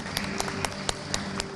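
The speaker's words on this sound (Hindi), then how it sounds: "कृपया तालियां जोर से बजाएं" Scattered audience clapping at an award ceremony, with sharp individual claps landing in a loose, fairly steady rhythm over a low hall background, moderately near and not very loud.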